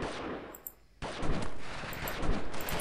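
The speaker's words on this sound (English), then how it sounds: "Now who has the nerve to shoot at me?" Gunfire aimed at the player in the video game Delta Force: dense crackling bursts of shots, a brief quieter lull, then a sudden loud resumption of sustained volleys that run to the end.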